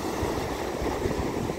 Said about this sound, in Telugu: వావ్, అలలు చూడండి